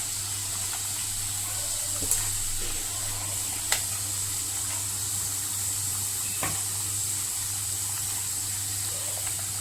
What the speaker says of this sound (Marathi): हे पातळ असल्यामुळं पटकन तळले जातात।